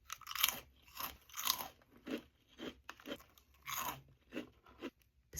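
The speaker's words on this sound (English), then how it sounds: "But you'll hear the crunch." Crunching of a freeze-dried fruit snack, several loud, close bites and chews in an irregular rhythm, with no talking.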